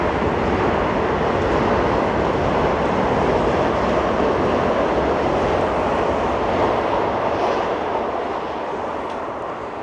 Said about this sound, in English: Another Long Island Railroad train.